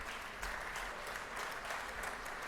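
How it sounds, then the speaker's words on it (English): An awards ceremony audience at GovHack Australia 2015 applauds with steady, dense clapping from many hands, evenly sustained at moderate volume with no talk over it. "Please give them all a round of applause."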